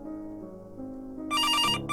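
A telephone bell rings loudly in a home, one sharp burst cutting in over soft background music, then pausing and starting again, with no voices.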